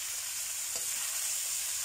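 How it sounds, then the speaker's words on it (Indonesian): Bitter gourd goes into a pan of fried chillies and sizzles steadily, a dense close frying hiss with one faint stir or clink partway through, no voices. "aku masukkan ini pare, nanti kita aduk"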